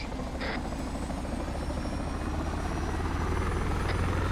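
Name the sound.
helicopter in a video game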